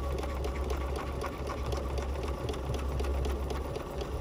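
Steady, close mechanical whirr of a sewing machine running an outline stitch around a fabric butterfly appliqué body, continuous and even for the whole stretch with no talking.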